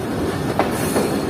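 Inside a moving express train, a continuous rumbling roar of wheels on rails carries a couple of brief rhythmic clacks, loud and close, with no voices.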